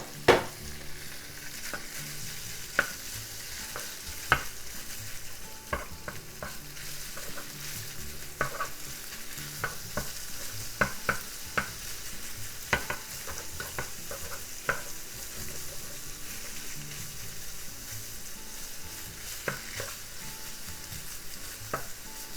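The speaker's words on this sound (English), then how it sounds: "And let's cook the pork." Pork sizzles in vegetable oil in a frying pan over medium heat, a steady close crackle with frequent scrape-and-clack sounds of stirring.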